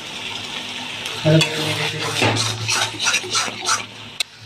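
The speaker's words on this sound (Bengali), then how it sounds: "শুধু এবার মাছটাকে কষবো মশলার সাথে।" Lote fish cooking down with spice masala in a pan, a soft sizzle broken by repeated scraping stirs and a few sharp utensil knocks, close and without talk.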